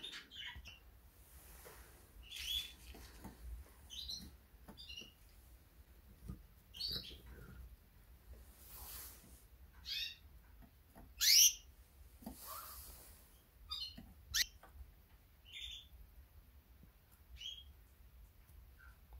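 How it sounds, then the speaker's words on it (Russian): Pet canaries chirp and trill indoors in short scattered bursts, some close and bright, others softer, with quiet gaps between calls and no talking. "Будем наблюдать за канарейками."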